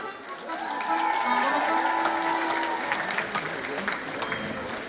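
A crowd applauds steadily, dense clapping mixed with scattered cheers and a sustained voice or tone running through it.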